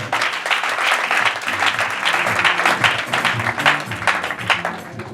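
A church congregation applauding together, a dense, steady wash of many hands clapping in a reverberant room, loud and continuous throughout.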